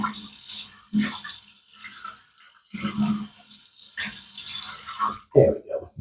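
A bathroom tap runs in bursts while hot water is drawn for shaving, with the stream starting and stopping several times and a short clatter at the end.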